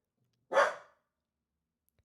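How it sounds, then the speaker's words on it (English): One short, sharp yap from a small dog, fairly close, followed by silence. "The little doggy's barking."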